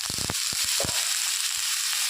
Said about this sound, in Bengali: আমি পেঁয়াজটা নেড়ে নিলাম, দিয়ে দিচ্ছি কেটে রাখা বিনস আর আলুটা